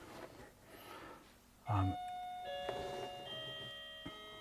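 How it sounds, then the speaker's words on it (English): A doorbell chimes in a room during a stream on Sinclair ZX Spectrum hardware, a bright tone that rings out and lingers in a few sustained notes over quiet background noise. "that's a doorbell"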